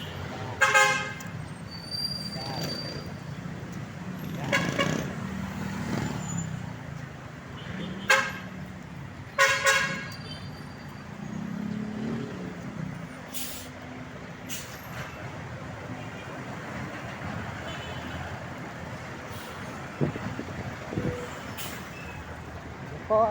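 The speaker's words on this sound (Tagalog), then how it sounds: "Ayan, traffic po rito ngayon mga idol" Manila street traffic rumbles along while several car horns toot in short bursts scattered across the scene, some near and some farther off, over a steady engine hum.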